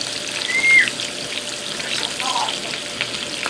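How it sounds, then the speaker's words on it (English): Garlic fries in a pan while being stirred, giving a continuous bright sizzle with scraping stir sounds and a short utensil clink, steady and close. "I'm going to stir my garlic around here just for a minute."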